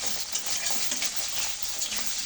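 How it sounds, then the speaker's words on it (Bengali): Potatoes and taro cut into fries sizzle in hot oil in a pan, a steady dense crackle that runs unbroken and close throughout. "আমি কিন্তু ফ্রাইগুলো ভেজে নিই"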